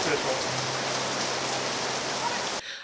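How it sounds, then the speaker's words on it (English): Rain pours down steadily at a theme park in Universal Orlando, a dense close hiss that stops abruptly near the end, with a faint voice in it. "we've gotten stuck in the rain a few times"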